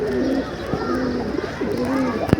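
Several pigeons coo in repeated low, rounded phrases close by over a steady outdoor background, with a sharp knock near the end.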